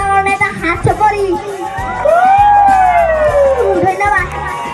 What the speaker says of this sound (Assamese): সকলো কষ্ট কৰিছে কাৰণে এটা হাত চাপৰি